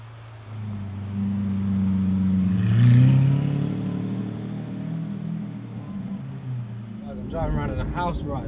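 A Lamborghini Aventador SV's V12 drones and revs while driving, with a deep rumble that swells to a peak and then settles to a steady cruise. A voice speaks briefly near the end.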